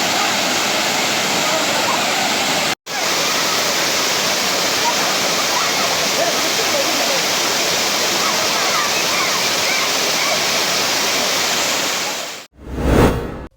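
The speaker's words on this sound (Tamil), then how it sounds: "அருவிக்கு நீர்வரத்து அதிகரித்து ஆர்ப்பரித்து கொட்டி வருகிறது" A waterfall swollen after summer rain roars in a dense, unbroken rush of water, loud and close, with one brief cut near the start and a sudden break at the end.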